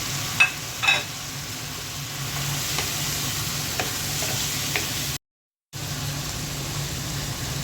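Eggplant, potato and pointed gourd go into a pan of spiced curry paste, giving a continuous close sizzle with a few stirring knocks early on and a brief dropout partway through.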